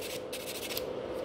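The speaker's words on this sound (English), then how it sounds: "So I'm buffing much quicker" A hand buffer rubs quickly over gel nails during a salon gel rebalance, making a steady, soft, continuous scratchy swishing close by with no pauses.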